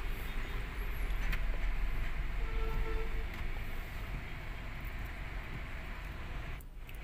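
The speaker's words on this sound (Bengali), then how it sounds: "রেল ক্রসিং পড়েছে, ট্রেন পার হচ্ছে" A train crosses a railway crossing ahead in rainy Dhaka traffic: a steady, broad rumble and rush of passing rail cars, fairly distant and continuous, with no voices.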